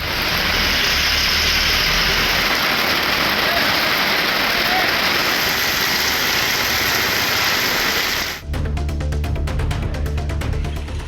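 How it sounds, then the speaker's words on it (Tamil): Heavy rain pours down in a dense, steady roar with wind, then the sound abruptly shifts to a rougher, pattering texture near the end. "நேற்று காற்றுடன் கூடிய கனமழை பெய்தது."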